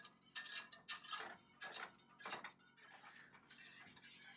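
Spoon scraping and clinking against a pot while a thickening sauce for vegetarian moussaka is stirred, a series of light metallic strokes at fairly low volume with no talking.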